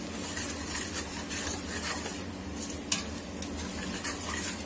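Masala and yogurt for chicken 65 biryani frying in a pan, heard as a steady, soft sizzle throughout with occasional light stirring scrapes and clinks, close and continuous, no talking.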